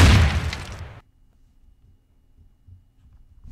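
A Garry's Mod video game explosion bursts loudly at the start as one broad blast, then quickly cuts off and leaves near silence with faint low rumbles.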